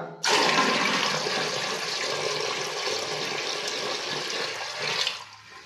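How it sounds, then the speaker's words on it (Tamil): Water poured into a freshly cleaned bathroom floor drain makes a steady, close rushing splash lasting about five seconds before tapering off, with no voices. "இப்போ தண்ணி ஊற்றி போதும்னு செக் பண்ணி பார்க்கலாம்"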